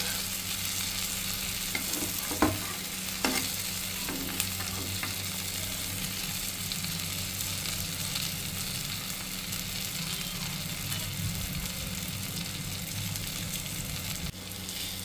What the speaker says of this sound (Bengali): দুই সাইডে এইভাবে উল্টিয়ে পাল্টিয়ে ভালোভাবে ভেজে নিতে হবে।